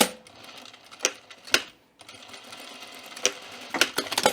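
Sewing machine stitching a pleat line on a button-up shirt, quick rattling bursts of stitching with sharp clicks and a short pause in between, close up.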